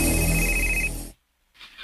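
A mobile phone rings loud and close for an incoming call, a steady electronic ringtone that stops abruptly after about a second, followed by silence and then a faint rustle.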